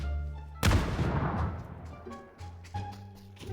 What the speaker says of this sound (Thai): ระเบิดนี่แหละ